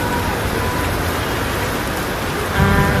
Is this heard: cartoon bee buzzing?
no